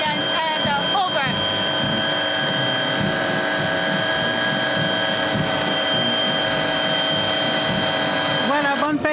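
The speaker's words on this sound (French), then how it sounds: "on voit ces aéronefs qui commencent à survoler le ciel du boulevard ici" Aircraft flying over the boulevard during a Cameroon National Unity Day parade, a loud, continuous roaring drone with whining mechanical tones, while a commentator keeps talking throughout.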